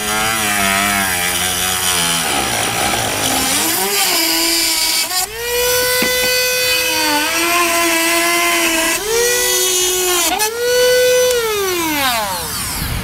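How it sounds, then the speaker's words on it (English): A plastic cutting wheel on a rotary tool cuts through plastic while fitting a Blue Ox base plate, a loud continuous high whine that rises and falls in pitch as the load changes, close and alone. "We'll use our plastic cutting wheel."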